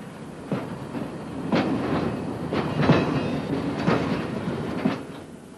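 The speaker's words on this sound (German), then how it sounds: "Im Urstromtal der Elbe ist seit Juli 1977 Europas größter und modernster Rangierbahnhof in Aktion." Freight trains rolling through a large railway marshalling yard in the Elbe valley, with rhythmic clickety-clack of wagon wheels over rail joints, steady and fairly close, with no speech.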